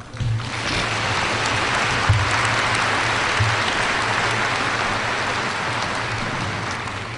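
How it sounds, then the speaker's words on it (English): Steady, dense applause from a large audience at a university fall commencement ceremony, an even roar of clapping held at one level throughout. "You may applaud."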